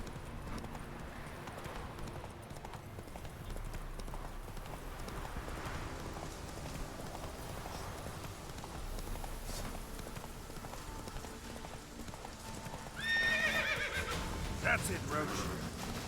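Roach, the horse in Witcher 3, gallops with a steady, fairly soft hoofbeat rhythm, then lets out a brief whinny near the end, with a voice talking faintly at points.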